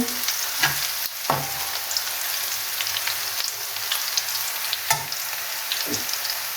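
Chopped onion frying in a pan until light brown, giving a steady close sizzle with a few sharp stirring scrapes and clicks.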